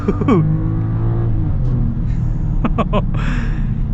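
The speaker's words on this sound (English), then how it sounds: "So let's see how this one accelerates." BMW X7 SUV with an inline-six engine accelerating, a loud close engine note rising in pitch with gear changes, heard from inside the cabin, with a brief exclamation from a person.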